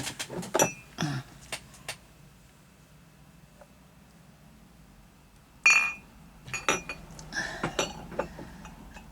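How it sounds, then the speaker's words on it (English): Several sharp clinks and clatters of a drinking glass being handled for a mouthful of water, with quiet handling sounds and a pause between bursts of activity; no talking. "Might have to have a mouthful of water now."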